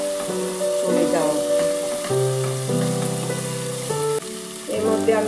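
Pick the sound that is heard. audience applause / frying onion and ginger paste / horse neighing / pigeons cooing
frying onion and ginger paste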